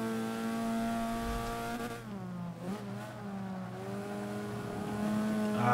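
A C Class Alfa Romeo race car in Forza 5 holds a loud, steady engine drone. The pitch dips and swoops around the middle as the driver lifts off and reaccelerates, with no talking over it.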